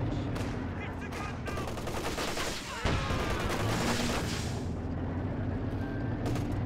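Tank gunfire in a World War II strategy game, with a Command Panther and T-34 trading shots: a sharp cannon report cuts through a steady rumble of engines and distant battle noise, followed by lingering background clatter.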